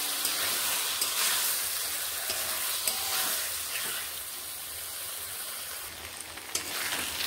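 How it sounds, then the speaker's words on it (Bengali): Spice masala sautéing in oil for an egg curry, a dense, steady sizzle close up, with occasional soft stirring scrapes and no talking. "এইভাবে মশলাটিকে আমি ভালোভাবে কষিয়ে নিলাম।"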